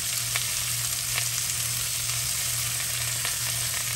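Cabbage, onions and peppers stir-fry in olive oil with a loud, dense, unbroken sizzle and faint scrapes of stirring throughout.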